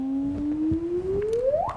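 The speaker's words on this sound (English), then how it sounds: "the sound of the chirp signal" Sonified gravitational-wave chirp signal: a single smooth tone sweeping steadily upward in pitch over under two seconds, accelerating sharply at the end, clear and alone.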